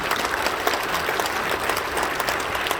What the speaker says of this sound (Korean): 잠깐 일어나서 박수해 주시겠습니다.